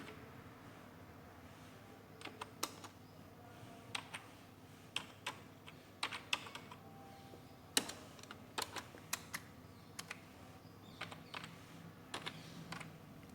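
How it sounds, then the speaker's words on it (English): Quiet, uneven clicking of keys on a computer keyboard, with short bursts and pauses, close by and with no talking. "I'm typing here, you can see."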